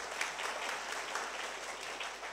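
A crowd at a business gathering claps steadily in a dense, even round of applause from a moderate distance, with no voices over it.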